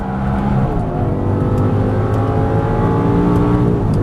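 An Audi R8 V10 accelerates hard under throttle on a track, its loud, continuous engine note climbing steadily in pitch from inside the car.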